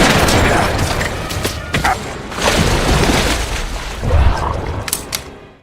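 Heavy gunfire in an action movie duel: several sharp bursts of shots and booms in quick succession, loud and close, with a brief lull between volleys.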